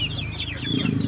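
Chickens and a rooster on a small chicken farm cluck in a short, close burst of overlapping calls over a low rumble.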